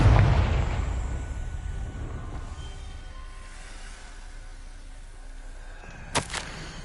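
A Confringo fire spell detonates in Hogwarts Legacy on PS5 with a loud, close boom that rumbles away over several seconds, followed near the end by a brief, sharp crackle.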